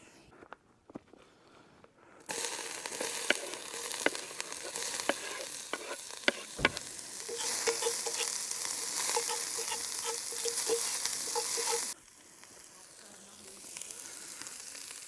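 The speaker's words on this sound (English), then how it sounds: "Get the onion, garlic in there, let that infuse a little bit in the oil" Onion and garlic hit hot olive oil in a Dutch oven at a camp cookout, bursting into a steady sizzle after a quiet start, with scattered clicks and pops, then dropping back to quieter ambience.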